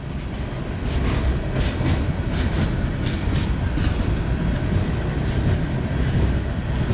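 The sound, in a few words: westbound freight train passing on Union Pacific line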